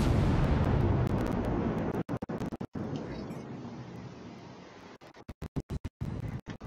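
Naval guns boom in a World of Warships space battle: a dense, rumbling barrage fills the first two seconds, then loud separate blasts crack out in rapid succession, alone with no talk.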